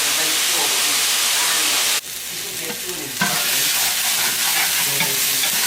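Onion stir-fries in a pan for chicken and veggie fried rice, giving a loud, continuous sizzling hiss that briefly softens partway through before surging back, with no speech.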